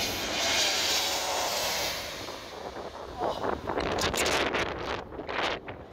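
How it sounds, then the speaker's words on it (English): An airplane flying very low on its landing approach, a loud roaring engine rush passing close amid heavy wind buffeting on the microphone, with no talk. "This plane's very low landing filmed from up close."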